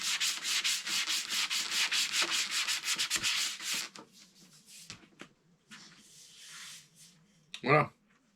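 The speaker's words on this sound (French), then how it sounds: "Tout a été poncé." Filler on a winch part being sanded smooth with steady rhythmic back-and-forth scraping strokes, close and loud for several seconds, then quieter occasional rubs and a final short scrape.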